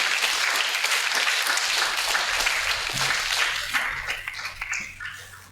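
A church congregation at a feast-day Mass at St. Sebastian Church in Kaluvoor applauds the priest's sermon. The clapping is dense and steady, then thins and grows uneven toward the end, with a low electrical hum beneath it.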